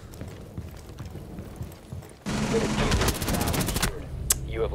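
Rapid gunfire rattles out in a shooter video game, a loud close burst of repeated shots that starts abruptly midway, following quieter game ambience.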